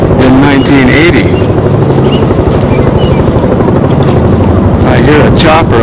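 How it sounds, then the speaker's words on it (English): Helicopter flying over a flooded town during the 1997 Grand Forks flood, a steady loud rotor drone that runs the whole time under someone talking. "I hear a chopper up in the sky."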